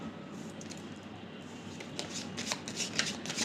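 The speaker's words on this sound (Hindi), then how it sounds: "मैं दिसंबर मंथ के लिए एक और कार्ड निकालना चाहती हूँ।" Tarot cards being shuffled by hand during a reading, a soft steady riffling that grows into quick crisp flutters and snaps toward the end, close and alone with no talking.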